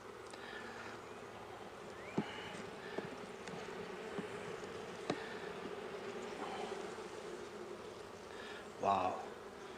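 Honey bees buzz steadily around a hive entrance, a faint, close, continuous drone with scattered soft clicks and one brief louder sweep near the end.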